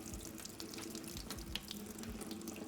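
Tap water runs steadily into a bowl of dried peas, a close continuous splashing stream with a soft rushing hiss and no voices.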